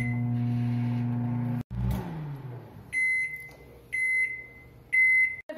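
A microwave hums steadily, then stops with a clunk, followed by three evenly spaced electronic beeps.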